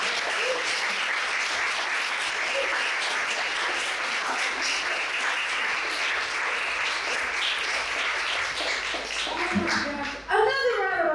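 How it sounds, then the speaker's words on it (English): Sustained audience applause fills a Juneteenth celebration hall, steady dense clapping throughout, with a few voices cheering near the end as it tapers. "Another round of applause."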